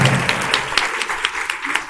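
Audience at a prayer conference in Gorakhpur clapping in a short burst of fast, fairly loud hand claps that thin out into scattered individual claps.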